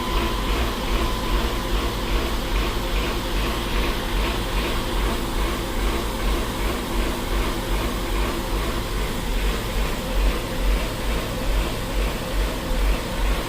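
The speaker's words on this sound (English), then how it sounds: "Now it sounds like we have a surging issue." A Dodge Neon 2.0 SOHC engine idles continuously with a slight surging, a steady droning hum with faint rhythmic rises and falls and no voices.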